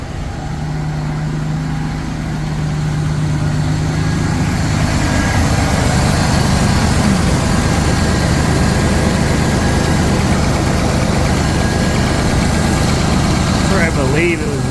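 A Camaro engine, just repaired after a fuel leak, idles steadily and loudly at close range with a continuous low rumble that holds throughout, while a voice talks over it.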